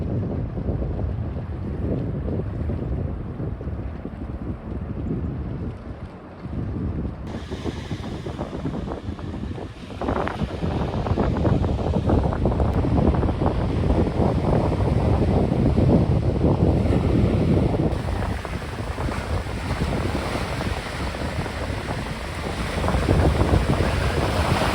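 Choppy sea waves churn and wash continuously while strong wind buffets the microphone at Ilha Deserta, a loud, steady roar with no voices.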